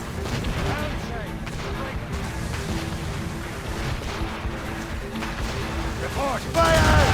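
Ship cannons fire in a naval battle among icebergs, with deep booms and rumbling blasts rolling under shouted orders and chaotic battle noise. A heavier burst comes near the end.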